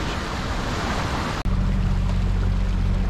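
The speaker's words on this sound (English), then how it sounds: "I'm motoring in the last few miles to the marina in Madeira" A solo sailboat motors under engine power toward a marina in Madeira, with a steady broadband wash of water and wind giving way after a brief dropout to a continuous low engine drone alongside the rushing water.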